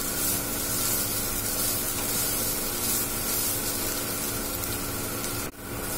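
Paneer frying in a pan as filling for veg paneer paratha, giving a steady, loud sizzle that holds unbroken for several seconds and briefly dips near the end.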